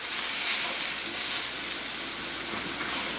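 Flour is stirred into buttery mushrooms in a hot pan, giving a loud, even hiss of frying that holds close and steady throughout.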